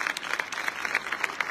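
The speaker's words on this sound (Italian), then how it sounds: "vi chiedo cortesemente di accoglierli con un applauso" At a school Christmas concert with children from several primary schools, an audience claps in a brief, dense burst, sharp hand claps close by over a softer crowd of clapping behind.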